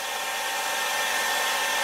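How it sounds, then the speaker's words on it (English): A blow dryer runs at a loud, steady roar to heat an eyelash curler, a constant broadband whoosh held throughout with no voices. "now we'll go into the blow dryer and the eyelash curler"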